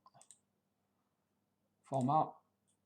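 A few quick, faint computer mouse clicks while working in XMind mind-map software, followed after a pause by a short burst of speech.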